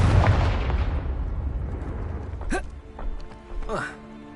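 A Confringo fire-curse spell explodes in the Hogwarts Legacy video game, opening with a loud booming blast that rumbles and fades, followed by a couple of shorter magical whooshes as a voice speaks.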